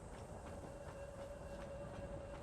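A train running in the video game Satisfactory: a quiet, steady rolling rumble with a faint sustained tonal hum and light periodic clicks.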